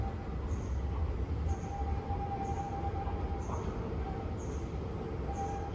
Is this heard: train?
yes